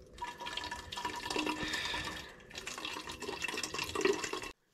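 Drinking water running steadily into a bottle or container while refilling supplies on a long-distance hiking trail, a moderately close trickle and gurgle that briefly dips, then swells again before cutting off abruptly.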